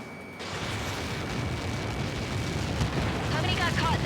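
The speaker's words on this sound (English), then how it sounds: "How many got caught in that explosion?" A massive explosion in the combat flight game Ace Combat 7 roars in as a sustained, loud, broadband rumble that swells and holds for several seconds after a quieter opening.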